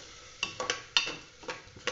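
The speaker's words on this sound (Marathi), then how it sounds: "तांदूळ तुपामध्ये छान भाजून घ्यायचे" Rice roasting in ghee for Konkani sweet coconut rice, stirred with a spoon: soft sizzling under several distinct scraping strokes, close and moderately quiet, with no talk.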